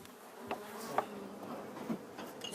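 Honeybees in hives carried by beekeepers moving their colonies toward flowers: a dense, continuous droning buzz, close and steady, with a few sharper knocks and movement sounds over it.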